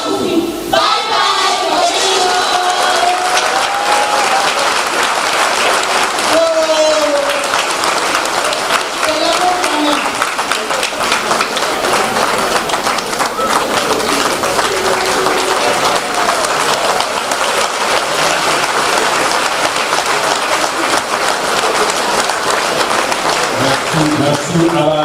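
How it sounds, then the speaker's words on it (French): Sustained loud applause from a church audience for a theatre troupe, dense clapping with crowd noise throughout, and a voice speaking over it early on. "Merci à la troupe thérésienne, des applaudissements encore"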